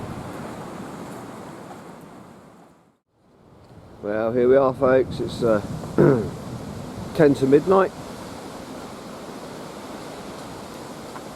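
Steady wind roars and rushes into the microphone for the whole stretch, briefly dipping, with someone speaking over it partway through.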